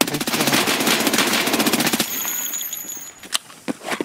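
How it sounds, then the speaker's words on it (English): Rapid bursts of automatic gunfire in Escape From Tarkov ring out loud and close for about two seconds. Sparser single shots and clanks follow, fainter and more spread out. "The shots came from down that corner where the spawn is"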